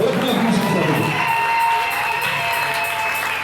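A church congregation cheers and acclaims during a sermon, a dense, loud wash of many voices shouting and cheering together that holds steady from start to finish.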